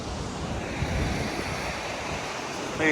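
Ocean surf rolls onto the beach at Morro Bay dog beach, a constant, fairly loud wash of waves with wind buffeting the microphone, no talk.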